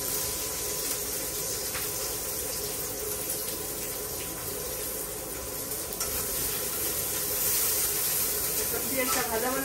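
Chopped onion and green chili fry in hot oil, giving a steady, dense sizzle and hiss with occasional stirring scrapes, loud and continuous throughout.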